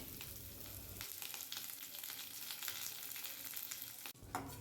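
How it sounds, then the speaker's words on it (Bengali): Chopped onions frying in oil with cinnamon, cloves, black peppercorns, small cardamom and bay leaves, being stirred in a pan; a soft, steady sizzle continues throughout, quiet and close with faint stirring scrapes. "পেঁয়াজগুলো নাড়াচাড়া করে অল্প ভেজে নিচ্ছি"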